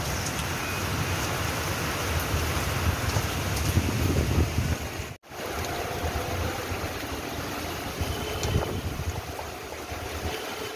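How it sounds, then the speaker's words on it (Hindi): Steady heavy rain pours down in a dense, continuous hiss, broken by a brief moment of near silence partway through. "बारिश बहुत तेजी से हो रही है"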